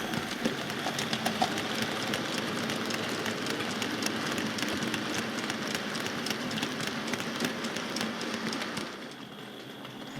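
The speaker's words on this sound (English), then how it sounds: "here we see the same coal train passing through Alisten Lea Junction station, heading off onto the main line" A coal train runs through a railway junction station onto the main line, a steady broad rolling rush of wagons, loud and close, that thins out near the end.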